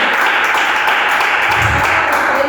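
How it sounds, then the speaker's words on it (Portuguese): A church congregation claps for Jesus during a worship service, a dense, loud, continuous wash of applause filling the room with no gaps. "Palmas para o Senhor Jesus, amém?"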